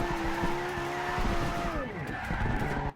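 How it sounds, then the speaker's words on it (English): A BMW M3 E36 drifts in Forza Horizon 2 on a mountain road, its tires squealing loudly and continuously over the engine's roar as the pitch sweeps downward through the slide. "This car is proving more difficult than I thought to drift."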